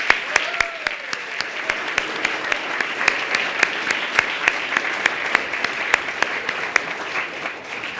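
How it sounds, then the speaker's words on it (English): A crowd at the Kid Governor inauguration in Connecticut's Old State House gives a sustained round of applause for the governor and special guests, a continuous wash of clapping with sharper individual claps standing out near the front. "Let's have one more round of applause for the governor and all of our special guests today"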